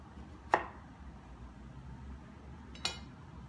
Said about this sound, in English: Cut the melon in half